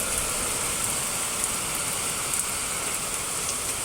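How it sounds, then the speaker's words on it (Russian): Heavy rain shower pouring over a village garden, a dense, continuous hiss of drops that stays loud and even throughout with no voices. "У нас ливень."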